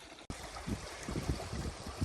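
Swollen creek water rushing after heavy rains where two creek branches meet, a steady broad wash with churning surges, close and continuous with no talk.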